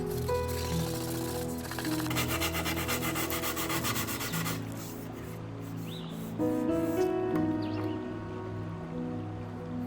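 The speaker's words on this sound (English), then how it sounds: "occasionally, while sanding, I'll gently scuff the insides of the drawers with a fine sanding sponge" Steady rubbing and scraping of a fine sanding sponge across the wooden drawer insides of a vintage sideboard, continuous and close, with a brighter abrasive stretch early on, over a background of music.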